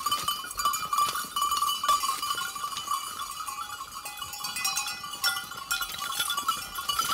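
Goats on a farm heading out to pasture in the morning, with a steady jingle of bells and scattered bleats close by throughout, no talking.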